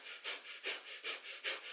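Rapid rhythmic breath-of-fire breathing from a kundalini yoga practice, about nine sharp, even nasal exhalations in under two seconds, close and fairly soft with no talk.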